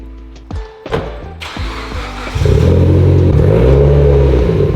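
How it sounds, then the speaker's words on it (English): A Mitsubishi Lancer Evo 10 with a fresh 40-mile engine idles with a few short blips, then settles into a loud, steady, sustained rev held near the microphone for the final couple of seconds. "How does your own personal Evo 10 sound?"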